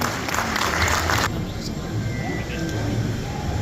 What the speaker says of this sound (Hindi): एक बार ताली बजाकर उनका स्वागत करें